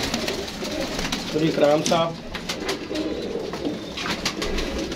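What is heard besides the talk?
golden pigeons cooing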